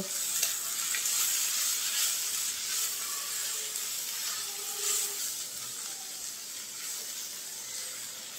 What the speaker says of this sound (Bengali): ডিমটা ভেজে ঝুরঝুরে করে নিয়েছি, এখন শাকের সাথে মিলিয়ে নেব।